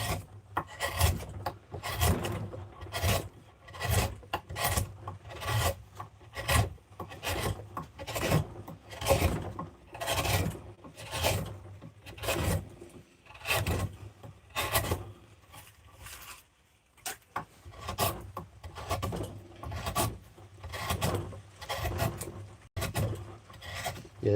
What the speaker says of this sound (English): these gouges, they really are worth the weight in gold